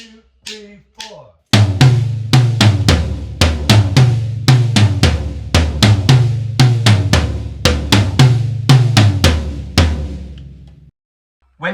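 A rock drum kit plays a driving verse groove in which the toms carry a repeating three-note pattern under kick and cymbal hits, loud and close, with a quick count-in at the start and a sudden stop near the end.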